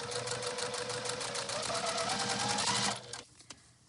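A domestic sewing machine stitches a quilt block, giving a steady, close whirring hum with a fast rhythmic needle patter that runs continuously for about three seconds, then stops, leaving a few faint clicks.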